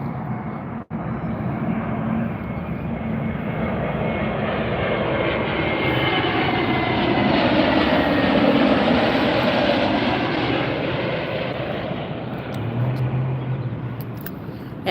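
A jet airliner arriving at Las Vegas airport roars steadily overhead, swelling in loudness and then slowly fading, its sound echoing off nearby mountains, with no voices.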